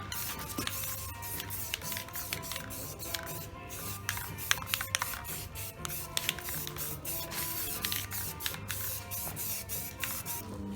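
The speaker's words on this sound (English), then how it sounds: "you can also dry paint with the air compressor far away" An air compressor drives a spray gun painting a surface after rust removal with molasses, giving a steady hiss with a low motor hum beneath and short bursts throughout. No one speaks.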